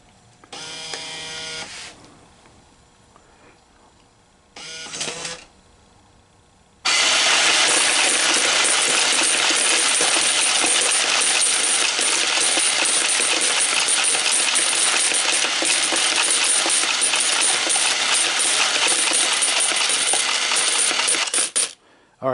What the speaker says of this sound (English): this hopper quit after dispensing 10 coins